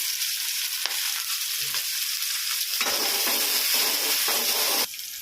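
Onion, garlic cloves and curry leaves frying in a pan for an egg kuzhambu, a loud, continuous sizzle with stirring scrapes that briefly swells partway through.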